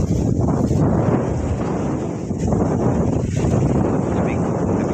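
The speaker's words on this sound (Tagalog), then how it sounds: "Lamig na simoy ng hangin." Strong cool sea breeze roaring steadily into the microphone on a seashore, a constant loud rumble of wind buffeting throughout with faint surf beneath.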